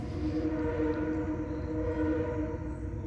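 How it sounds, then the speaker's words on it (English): A loud passing train with a steady, continuous rumble and sustained tonal drone that holds at a constant level throughout, heard alone with no talk. "I apologize if that train's really loud."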